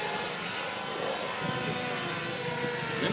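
At an RC airplane combat event, a model airplane engine runs at full throttle as a continuous loud, buzzing drone that stays fairly steady throughout.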